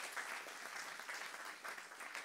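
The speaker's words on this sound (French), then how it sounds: "on n'a pas fini d'applaudir" A church congregation in Le Havre applauds to welcome a first-time visitor, a steady wash of many hands clapping together, unbroken and fairly close, with no voices over it.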